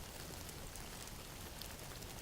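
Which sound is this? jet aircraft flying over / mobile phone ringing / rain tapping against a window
rain tapping against a window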